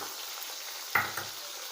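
Onions and green chillies sizzle steadily in a hot pan, a continuous frying hiss with a brief stir or clatter partway through, close and fairly quiet with no talk.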